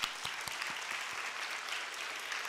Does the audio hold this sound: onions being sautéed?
no